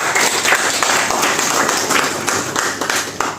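A crowd applauds loudly and steadily, many hands clapping in a dense, continuous patter that stays strong throughout.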